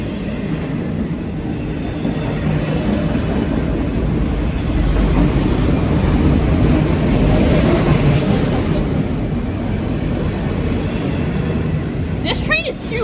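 A long freight train with intermodal cars rolls through Laurier Station, a steady loud rumble and rattle of wagons that builds and holds throughout, with a brief voice at the very end.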